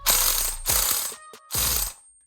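A DeWalt 20V Atomic cordless ratchet runs in three short bursts of loud, close mechanical whirring and clicking, with brief pauses between them.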